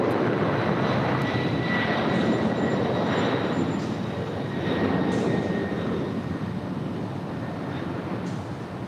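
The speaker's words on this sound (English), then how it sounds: "It's a 787-10 Dreamliner there at Terminal 7, now pushing back from the gates." A United Airlines Boeing 787-10 Dreamliner pushes back from the gate at Terminal 7 at LAX, its engines giving a steady whining roar with a thin high tone on top, moderately loud and continuous, with no talk.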